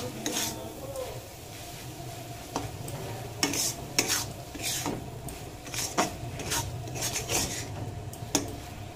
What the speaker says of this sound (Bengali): মশলার সঙ্গে ভালো করে কষিয়ে নেব